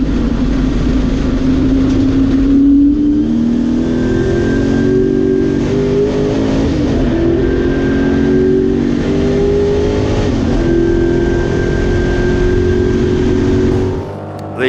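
A Ford Mustang and an Alfa race at Silverstone Classic. Loud, close engine roar fills the whole stretch, with steady rising and falling revs of passing race cars, and no talk.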